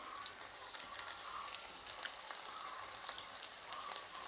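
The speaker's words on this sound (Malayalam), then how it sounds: "ഇപ്പുറത്ത് ചിക്കൻ ഫ്രൈയും നടക്കുന്നുണ്ട്." Chicken frying in a pan, a faint, steady crackling sizzle with scattered small pops, heard from a little distance with no talking.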